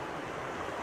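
Waterfall at Three Shires Head, a steady broadband rush of falling water heard close and continuous, with no voices over it.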